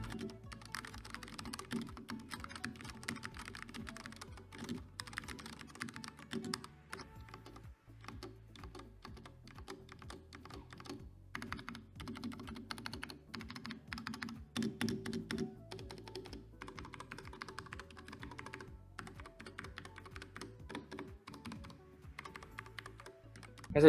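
Continuous typing on a compact mechanical keyboard, close and fairly quiet, with a fast, uneven patter of key clicks and thocks and no talking.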